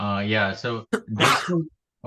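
A person sneezes once, sharply, in an office setting, set between stretches of nearby conversation.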